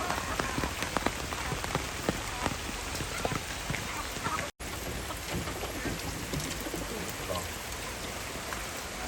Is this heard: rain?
yes